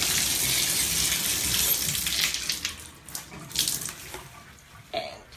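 Water runs from a bathtub faucet as a rag is wet under it, a steady close gushing splash that breaks into uneven splashes and drips as the flow is interrupted.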